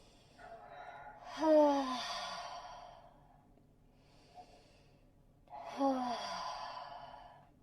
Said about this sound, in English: whenever you exhale, noisy breath, let go